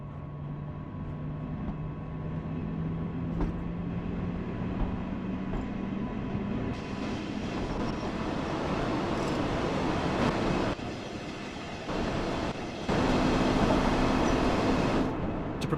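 A simulated locomotive on the Ruhr-Sieg Nord route in Train Sim World runs with a steady rolling rumble and faint rail clatter, building slightly louder in the final seconds, with no talking.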